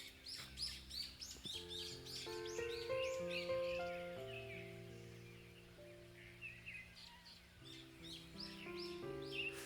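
Several wild birds chirp and call outdoors in a deep-mountain dahlia garden, bright repeated tweets layered over a steady mid-level musical background.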